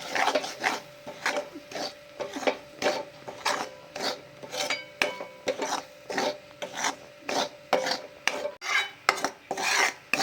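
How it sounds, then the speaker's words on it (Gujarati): Coarse wheat flour roasting in ghee, stirred in a pan with steady rasping, scraping strokes repeating about twice a second, close and fairly quiet with no voices. "તેને ઘીની અંદર શેકી દઈશું।"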